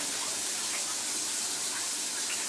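A shower running, a dense, steady hiss of spraying water that holds at an even level throughout, close and with no voices.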